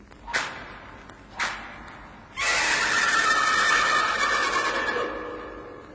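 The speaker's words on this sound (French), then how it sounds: "Zorro galope vers la ville, entraînant Monastario ligoté sur son cheval." Two short horse whinnies ring out, then a long loud neigh follows and fades, a staged horse effect in a radio drama about Zorro riding off.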